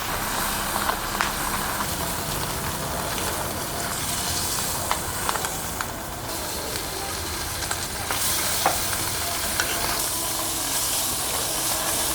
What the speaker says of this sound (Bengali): তেল দিয়ে দিছি, এখন মরিচ দিয়ে দিলাম রান্নার জন্যে